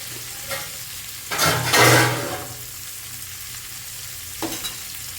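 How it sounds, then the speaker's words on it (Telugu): Lobster heads fry in butter with a constant low crackle that bursts into a loud, bright sizzle for under a second before settling back to a gentle hiss, with a couple of light taps near the end. "ఆ బట్టర్లో చక్కగా వేగుతుంది అనమాట హెడ్ లాబ్స్టర్ తాలూకా హెడ్స్ కూడా వేగుతున్నాయి"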